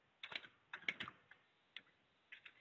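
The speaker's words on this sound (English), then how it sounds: "And you can see as I type a few letters" Several light keystrokes on a computer keyboard while entering letters into a dispatch software search field, scattered soft clicks in small clusters with gaps, close but quiet.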